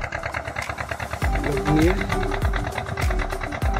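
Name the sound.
passenger boat engine running on the river at Farakka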